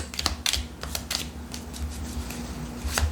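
Small cards being shuffled by hand in short, uneven riffles and flicks, close and soft, with brief pauses between bursts.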